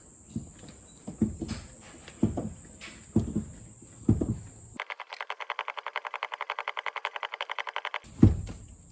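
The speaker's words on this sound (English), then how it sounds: "The first thing we do with the ignition off, we have to pump the brake 40 times." Brake pedal on a Pajero pumped repeatedly with the ignition off: a series of regular thumps and creaks, then a fast rhythmic mechanical chatter, followed by another thump, close by.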